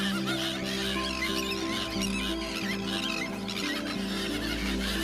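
Slender-billed gulls and terns call at a crowded breeding colony on the Ukrainian coast, a dense, continuous chorus of squealing, honking cries at close range, loud throughout.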